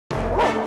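Dogs barking in a Wonder Woman TV episode: one loud, close, sustained bark-yelp that starts abruptly and fills the moment with no talk over it.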